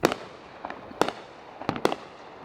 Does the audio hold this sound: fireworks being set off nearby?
yes